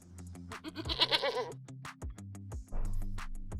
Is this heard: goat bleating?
yes